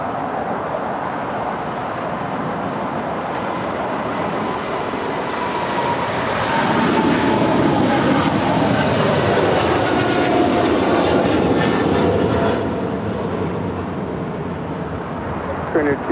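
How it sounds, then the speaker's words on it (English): A Korean Air Cargo plane rolls down runway 25 left at LAX, a broad jet roar building to a loud peak midway and easing off, with faint talk and radio chatter underneath. "Korean Air Cargo now rolling down 25 left"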